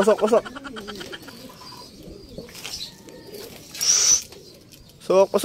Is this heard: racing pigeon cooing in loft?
yes